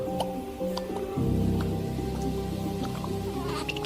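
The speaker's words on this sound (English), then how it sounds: "In places, these form seething mud pools." Thick wet plops and squelching bubbles burst close by over a low steady rumble, irregular and continuous, from a seething geothermal mud pool.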